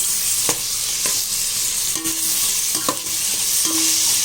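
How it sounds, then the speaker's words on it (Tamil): Onions frying with ginger-garlic paste and whole green chillies for a seeraga samba chicken dum biryani, a steady close sizzle broken by several sharp scrapes and stirs of a spoon against the pan, with no talking. "வெங்காயம் நல்லா வதங்கி வரணும்"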